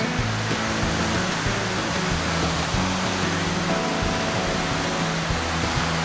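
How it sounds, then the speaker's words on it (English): Waterfalls at the Weeping Wall pour in a steady, broad rush of falling water, constant and moderately loud with no talking. "Scan over to see a few of these waterfalls."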